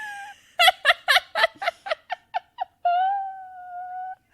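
A human voice imitates a gorilla fart with a run of about eight loud, sputtering, trumpeting bursts that speed up and shorten, then ends in a long drawn-out squeaky tone, all close and alone.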